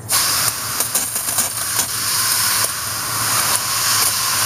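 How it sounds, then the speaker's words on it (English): Cleaner sprayed onto a dirty HVAC outdoor condenser coil, a steady close hiss of spray with several brief bursts and knocks, no talk. "I'm going to start spraying off some of this coil debris."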